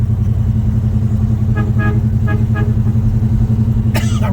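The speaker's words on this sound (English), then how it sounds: "I really think only one of them horns is working." Brief, weak horn toots from a 1970 Pontiac GTO with a rebuilt 400 engine, a few short honks barely above a loud, steady engine rumble heard from inside the car.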